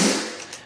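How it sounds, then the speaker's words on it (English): Stacked one-shot snare samples, woody, cracky and roomy layered together, hitting once as a thick, bright crack that decays into a reverberant tail, with no voices. "I just take one-shot snare samples and I drop them in."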